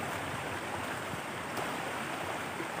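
Floodwater rushes in a strong, steady roar during a flood on a dry day, a continuous broadband wash of current with no pauses and no voices.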